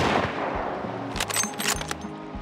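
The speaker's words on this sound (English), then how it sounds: "Another shot rang," A single gunshot rings out in an old-West audio story, a sharp loud crack followed by a couple of further bursts and echoing reports, with no voices over it.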